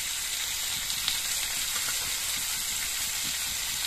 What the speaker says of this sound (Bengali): এবার আবার সব সবজিগুলো একসঙ্গে কিছুক্ষণ ভেজে নেব।